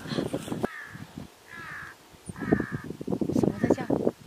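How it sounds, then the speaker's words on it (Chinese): Crows on a windy mountain top caw three times, clear, harsh calls rising between and beneath a person talking close by. "今天没想到真正的听到了乌鸦的叫声。"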